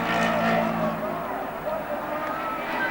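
Race car engine noise from the 1970 British Grand Prix, a Formula 1 Brabham limping toward the finish line with a fault, a continuous rough roar heard under a commentator's voice.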